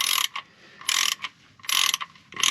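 Up close, a ratchet tightens bolts during a Ford ST220 oil change, clicking in three quick bursts with short pauses between.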